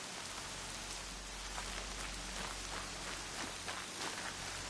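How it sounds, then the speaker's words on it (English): Steady rain in the video game Horizon Zero Dawn, a dense, even hiss of drops falling on surfaces with no pauses, continuous and moderately loud throughout, with no voices over it. "Everything's sharp and looming in the rain."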